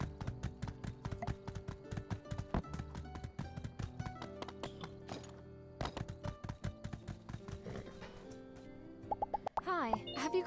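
A rented horse in the game My Time at Sandrock trots along, its hooves clip-clopping in a steady, busy rhythm under layered background music, ending in a brief flourish of other game sounds.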